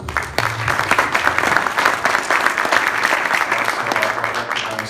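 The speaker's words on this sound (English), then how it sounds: "Round of applause for Gary Davis, please." Keynote audience applauding Gary Davis, dense continuous clapping from a sizable crowd, loud and sustained for the whole stretch with no break.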